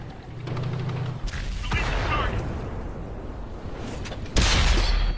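Tank cannon fire in a video game, with a heavy boom around the middle and a louder, sharper blast near the end over a steady rumbling battle background.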